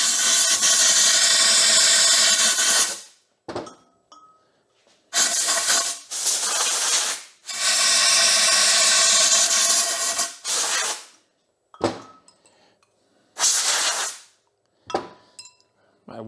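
Compressed air blasts off washed Honda CRF230F motorcycle fork parts in loud, close hissing bursts, two long and several shorter, separated by quiet gaps with small clinks.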